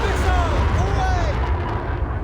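A missile launches from a warship at sea: a loud, sustained roaring rush with a heavy low rumble throughout.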